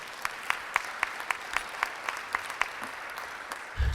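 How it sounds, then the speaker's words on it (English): A small Rotary meeting audience applauds honoured Cincinnati public school teachers on Teacher Appreciation Day, sparse, distinct claps at a steady pace, fairly quiet and moderately close, ending with a low thump. "Let's give another round of applause to our honorees today."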